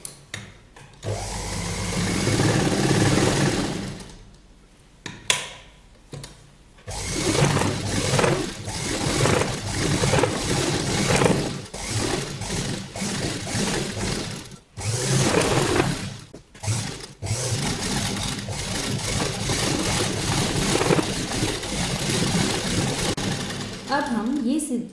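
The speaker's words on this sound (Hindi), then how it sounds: "अब हम इसको डबल करके ऐसे सिलाई कर लेंगे।" Sewing machine stitching a doubled seam on a child's sleeveless summer frock, running in long steady bursts with short pauses, close and fairly loud.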